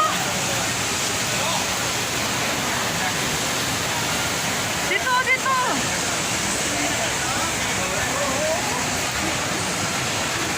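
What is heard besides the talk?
Jewel waterfall at Singapore Changi Airport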